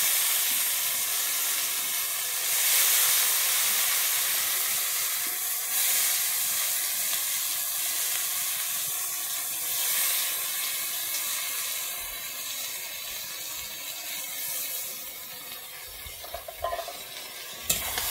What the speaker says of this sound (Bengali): আমি ঠোঁটটা দিয়ে এবারে ভালোভাবে ভেজে নিচ্ছি।